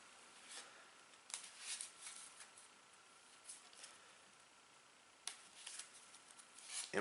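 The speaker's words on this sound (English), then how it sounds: "then we're going to shuffle this deck" Game cards for a board game set in the Alien universe being shuffled, quiet papery riffles and flutters in several short bursts with pauses between, fairly soft and close with no talking.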